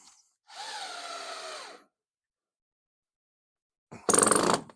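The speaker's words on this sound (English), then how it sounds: "We're drilling holes." Two short bursts of a power drill boring holes into plywood, the first a whining spin about a second long, the second a brief harsher grind, with silence between.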